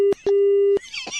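A telephone busy tone pulses after a call ends on a radio show: three steady beeps, the last one longer, then a burst of broadband noise.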